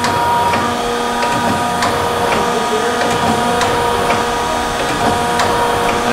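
A Denison 4-ton hydraulic C-frame press with a rotary indexer runs continuously, giving a steady loud mechanical drone with a hum and regular light clicks and knocks as the table indexes.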